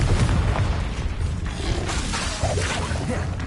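A Confringo spell cast in Hogwarts Legacy, a rumbling blast with booming impacts and whooshing bursts that fill the whole stretch, loud and continuous with no talk over it.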